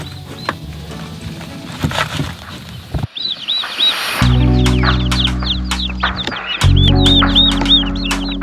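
Young Blue Slate turkeys peeping in a run, repeated high chirping calls over a steady low hum with brief rustling and knocks, close and fairly loud.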